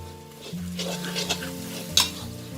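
Garlic stir-fried in a pan over medium heat until golden, a steady close sizzle with scraping stirs of a utensil against the pan and a sharp clink near the end.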